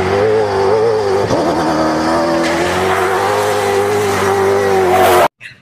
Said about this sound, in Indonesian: Wis, keren sekali mobil off-roadnya.